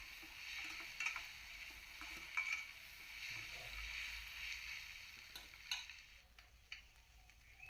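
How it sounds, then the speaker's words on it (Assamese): Mashed potatoes with salt and turmeric fry quietly in a pan, a faint, steady sizzle with occasional soft scrapes and taps of stirring. "ইয়াতে মই ধুনীয়াকৈ ভাজি ল'ম।"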